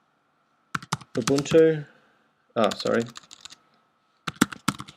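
Computer keyboard keys clicked in quick bursts while a terminal command is entered, with someone speaking in between the sharp, close-up taps.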